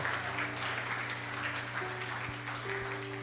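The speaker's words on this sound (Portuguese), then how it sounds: "Aplaude ao Senhor nesse momento." A church congregation applauds during a worship service, a continuous wash of clapping over a steady low hum from the sound system, with a few faint tones and thumps.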